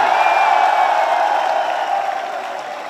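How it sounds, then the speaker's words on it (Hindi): Brief burst of crowd applause and cheering at a big outdoor political rally in New Delhi's Japanese Park, loud at first and then gradually fading. "एक बार अटल जी के लिए भी जोरदार तालियां बजा दीजिए।"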